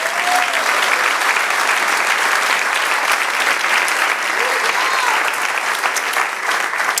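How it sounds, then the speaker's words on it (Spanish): A church congregation applauds and celebrates during a sermon, loud sustained applause with a crowd-like roar, faint voices rising briefly above it. "Denle otro aplauso y celebre."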